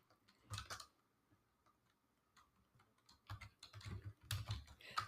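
Bursts of typing on a computer keyboard, a short flurry early on, then quiet, then denser clustered keystrokes near the end, close and fairly soft with no voices.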